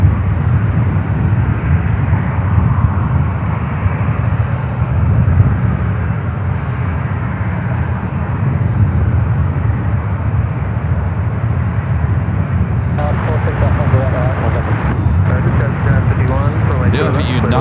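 Jet airliners at San Francisco International Airport (SFO), a loud continuous engine roar that holds steady throughout, with a sharper burst of higher noise near the end.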